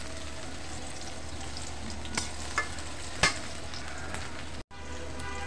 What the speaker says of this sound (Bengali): কেটে দিয়ে আমি সুন্দর করে এটাকে একটু লাল লাল করে ভেজে নেব